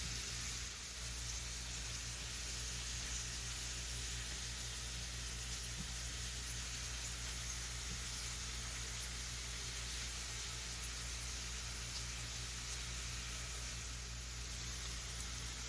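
Onions and zucchini sauteing in a hot pan for hibachi, giving a steady, close sizzle with constant hiss and a low hum underneath, unbroken throughout with no one talking.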